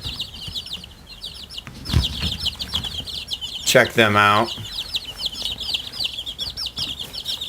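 Chickens cluck and chirp continuously in the background while a person speaks briefly, with a burst of louder calling midway.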